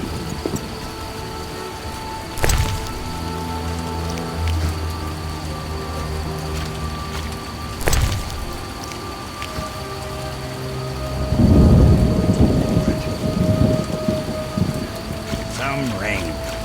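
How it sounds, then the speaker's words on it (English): Steady rain pours in the dark fantasy game The Witcher while thunder cracks sharply twice, followed later by a long rolling rumble, all over a constant hiss of rainfall. "It's raining."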